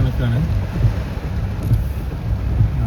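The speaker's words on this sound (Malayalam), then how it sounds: "ഭയങ്കര കാറ്റാണ് അടിക്കുന്നത്" Strong wind gusting during a summer rainstorm, a continuous heavy buffeting roar concentrated in the low end, close and loud throughout, with a faint voice briefly audible beneath it.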